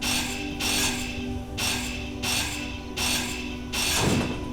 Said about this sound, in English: let's see if I can grind this down just below the functional line